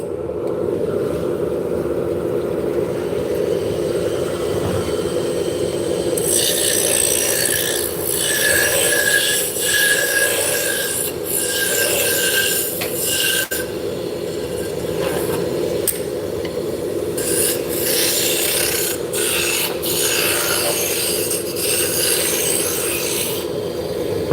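Wood lathe spinning hard maple drop spindle shafts, a steady droning whir with intermittent scraping and rasping bursts as the tool cuts the wood.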